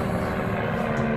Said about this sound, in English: Hold on, there's a plane going over.